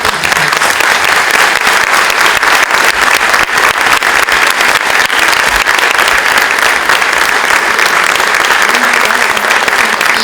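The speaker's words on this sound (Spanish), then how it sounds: "Así que le vamos a dar un fuerte aplauso." A large audience at a Santa Fe talk breaks into loud, sustained applause, dense clapping filling the whole stretch at an even level without letup.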